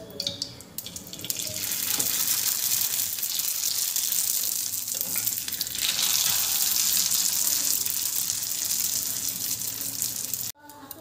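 Homemade rice leaf papad frying in hot oil, a loud steady hiss and crackle of bubbling oil that holds for about ten seconds before cutting off abruptly, with no voices over it.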